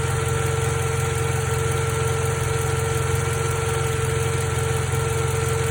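Running engine of a 2012 Toyota Camry with a failing alternator, a steady idle hum carrying a constant high-pitched whine, heard up close and unchanging without any talk.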